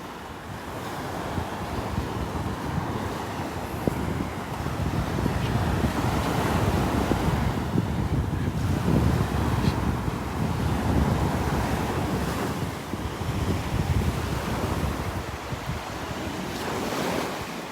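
Waves wash ashore on Delnor-Wiggins beach under gusting wind that buffets the microphone, a continuous, fairly loud roar of surf with swelling breaks and no talk.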